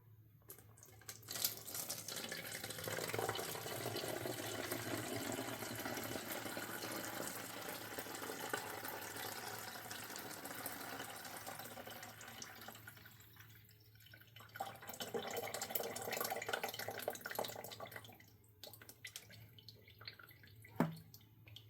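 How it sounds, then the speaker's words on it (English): Tap water pours into an empty vinegar bottle in a kitchen, a steady, faint stream with gurgling and dripping that fades, restarts, and ends with a small clink, no talking. "we're gonna basically just put some water in this"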